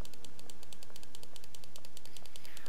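Mouse clicks in Sherlock Holmes: The Awakened Remastered come as a regular, fairly loud series of crisp taps over a dense background hiss, with no talking.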